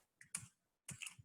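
Python code typed on a computer keyboard, two short bursts of close, crisp clicking keystrokes separated by a brief silent pause.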